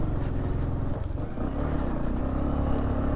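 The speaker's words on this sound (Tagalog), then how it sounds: "Kayang-kaya naman ang motor natin." Motorcycle riding over a rough uphill dirt road toward Bagyangon Falls in Malitbog, Bukidnon, its engine a steady loud rumble with clattering jolts throughout, no talk.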